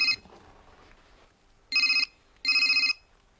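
Phone ringing in two short, loud bursts of electronic trilling about half a second apart, following a quieter stretch of faint background.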